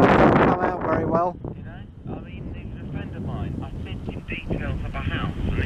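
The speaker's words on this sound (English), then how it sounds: "it's very windy up here" Strong wind on Highdown Hill buffets the microphone in a continuous low roar, while someone talks over it outdoors.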